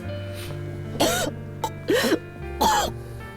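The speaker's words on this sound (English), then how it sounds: "Princess suddenly coughs up blood." A video game character gives three harsh coughs in a slow series, each rough and throaty, over a low background hum.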